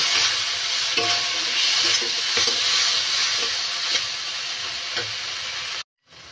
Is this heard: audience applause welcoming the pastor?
no